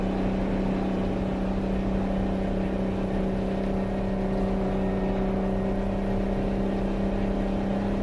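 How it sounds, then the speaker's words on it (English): A truck with a two-stroke engine driving at speed in tenth gear, a continuous buzzing, droning engine note with strong steady harmonics, loud and close from inside the cab, no talking. "I've owned a 2-stroke engine. I know what they sound like, but on a truck it's just weird."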